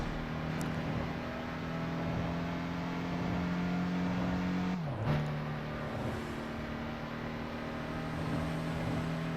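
Street racing cars in the Tokyo Xtreme Racer video game, with a steady engine drone holding pitch, then a sharp dip and whoosh midway as the car shifts or another car cuts close, before the drone resumes.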